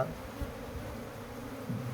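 Honeybees buzz steadily as a swarm is hived into a wooden box, a dense, continuous close-up drone that holds an even level throughout, with no voices.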